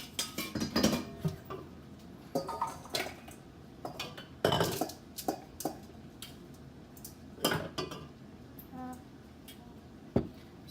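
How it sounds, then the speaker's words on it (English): Greens being dumped from a pot into a colander in a home kitchen, giving scattered metallic clanks and knocks of cookware at close range with wet rustling in between, no talking. "taking the greens out and dumping them into a colander because I don't want them to cook all the way"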